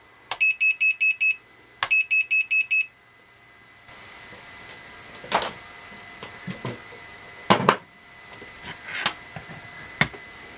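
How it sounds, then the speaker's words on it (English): A Target Hobby 3-in-1 RC receiver alarm gives two loud bursts of about five rapid, piercing beeps each, followed by quieter scattered clicks and handling noises. "So every time you flip that channel, it alarms."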